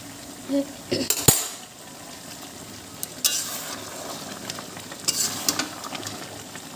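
Country chicken curry cooks in a wok on the stove with a soft sizzle, broken by sharp clinks and scrapes of a metal spatula stirring against the pan at irregular intervals.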